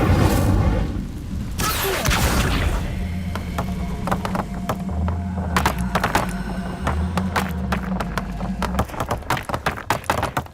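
In the video game Hogwarts Legacy, the Incendio fire spell is cast with a deep booming whoosh that swells loudly and then trails into a rumbling, crackling burn with scattered sharp snaps and low hum underneath.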